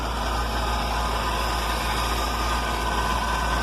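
A car engine with a Holley 4180C carburetor idles steadily, a low continuous hum with a faint hiss, even and unchanging throughout.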